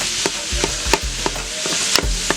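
Ground beef frying with onions in a pan, chopped up with a utensil: a steady sizzle under repeated sharp scraping and tapping strikes at an irregular beat, close and fairly loud, no talk.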